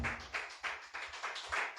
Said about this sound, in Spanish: Dele fuerte aplauso al Señor, hermano